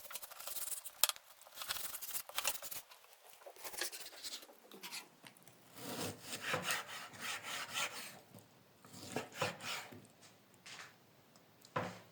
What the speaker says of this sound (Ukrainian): М'ясо можна нарізати так, як вам більше подобається, дрібно або більшими шматочками.